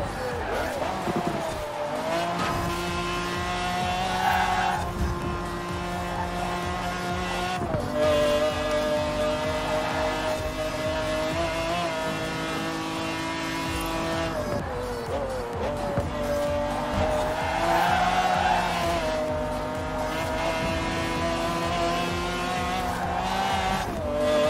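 McLaren F1 GT race cars roar through a race in Forza Horizon 4, a steady, loud engine drone with pitch rising and falling through gear changes, with some tire squeal and a voice talking over it.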